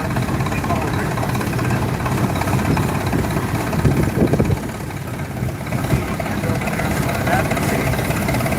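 A 1929 Rumley OilPull tractor, model 20-30, in original condition, runs steadily with a low, continuous engine drone, with a few louder swells around the middle and a voice talking over it.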